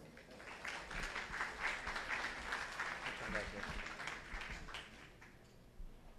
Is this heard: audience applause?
yes